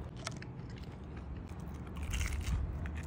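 Crunchy fried bread-and-sausage rolls, bitten and chewed up close; a steady crackling crunch throughout that grows louder and denser toward the end, with no talk.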